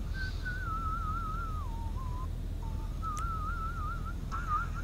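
Someone in a GTA V online session whistles a long wobbling melody, dipping and rising with a short pause, carried over a constant low hum and faint clicks, with no speech.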